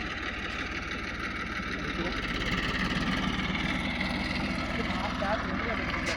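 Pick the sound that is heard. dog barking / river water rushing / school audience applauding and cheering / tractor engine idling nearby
tractor engine idling nearby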